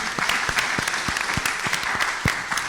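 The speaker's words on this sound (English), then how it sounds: "So we owe a special round of applause to City Clerk Michelle Gainey and her staff" Scattered round of applause at a city commission meeting in Gainesville, Florida, with sharp individual claps from a small audience, fairly close and irregular, no talk over it.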